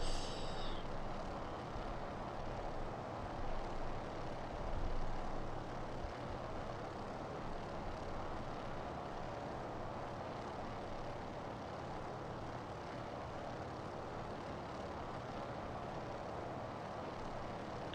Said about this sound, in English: I feel like this aircraft could use better sounds in the interior. It's kind of quiet and tinny.